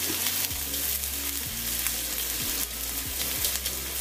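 Shallots frying in hot oil for nasi goreng crackle in a steady, close sizzle while a utensil stirs and scrapes the pan in a regular rhythm.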